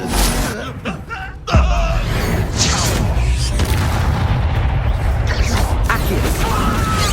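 Confringo blasting spell explosions in the Hogwarts Legacy video game: a sudden deep boom, then sustained rumbling blasts and crashing debris, loud and close, with shouted voices mixed into the fight.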